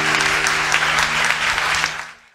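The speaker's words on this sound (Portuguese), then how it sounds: "Aplauda Jesus, por favor." A church congregation applauds with dense, sustained clapping that fills the room, with a faint low tone underneath, then fades out at the end.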